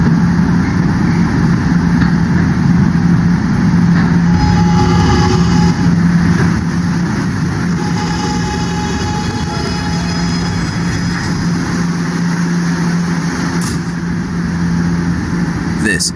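A New York subway R train on the N line riding between stations, a loud continuous rumble and roar with steady motor whine and faint screeching tones throughout, no talking.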